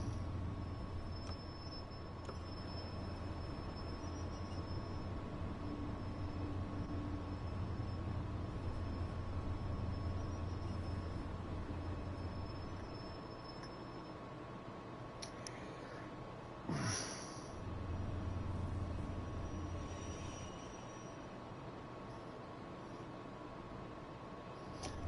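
A locomotive in the Train Sim World 3 game rumbles in a steady, continuous low drone for a long stretch, with a brief louder thump partway through, and no talk.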